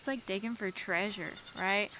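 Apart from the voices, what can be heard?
baby goats bleating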